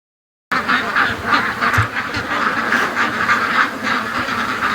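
Ducks quacking in a yard, a loose, continuous chorus of overlapping calls at moderate volume that starts abruptly after a brief silence and carries on steadily throughout.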